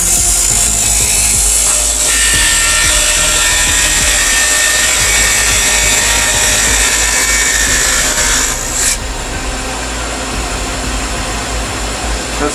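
A wood lathe spins a workpiece while a skew chisel cuts into the wood, producing a loud continuous whirring, scraping hiss that holds steady and then eases slightly near the end.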